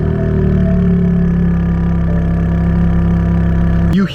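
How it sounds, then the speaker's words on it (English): The twin-turbo inline-six of a BMW G82 M4 Competition idles loudly and steadily up close after starting, a deep, even drone with no talk, ending in a brief shift in tone. "You hear the inline-6 in this car"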